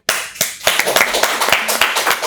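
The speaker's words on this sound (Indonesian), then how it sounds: "Coba, kita tepuk tangan dong." A crowd claps in applause at the close of an interview session, with a dense run of hand claps that starts sharply and holds steady at close range for a couple of seconds.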